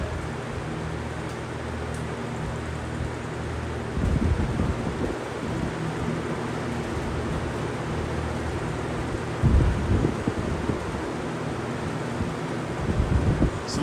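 McCra Edison box fans blow straight into the microphone, creating loud, steady rumbling wind noise with a few stronger buffeting gusts and no speech.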